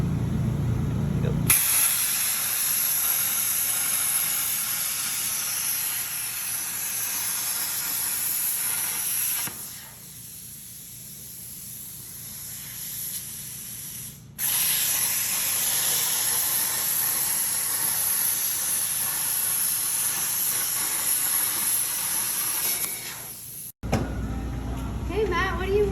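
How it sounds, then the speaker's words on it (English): Gas metal arc welder laying stringer beads, a steady close hiss and crackle that runs for long stretches, dropping out briefly around the middle and again near the end. "I'm working on stringer beads with the gas metal arc welder."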